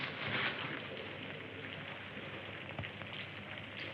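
Rain falls on city streets at night in a 1978 horror film scene, a soft, steady patter and hiss, fairly quiet and continuous with no voices.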